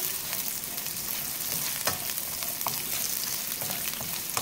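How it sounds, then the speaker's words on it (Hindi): Sliced onions frying on a medium flame for a boneless chicken pulao, giving a steady close sizzle with occasional soft crackles and spatula scrapes throughout, without any talking. "प्याज को हम मीडियम फ्लेम पर फ्राई कर रहे हैं।"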